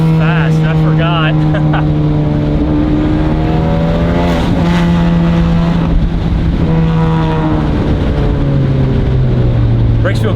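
A Honda Civic Type R FK8 accelerates hard, its engine droning loud and close with rising and shifting pitch throughout, while a person talks over it.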